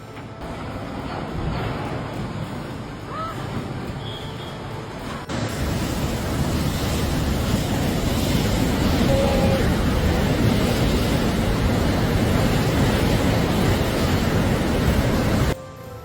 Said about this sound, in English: Roaring winds and towering waves overpower a barge